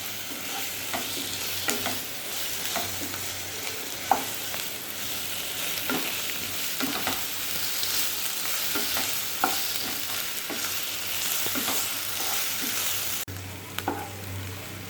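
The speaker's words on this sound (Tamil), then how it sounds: "இஞ்சி பூண்டு பேஸ்ட்டு அந்த பச்சை வாசனை போகிற வரைக்கும் நல்லா வதக்கிக்கலாம்." Ginger garlic paste sautés steadily in a pan for an Arabian murtabak filling, a continuous close sizzle broken by frequent spoon scrapes and stirring knocks, with no talking.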